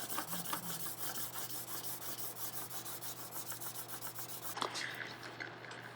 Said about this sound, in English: As I trace over my lines to get the charcoal to transfer onto the MDF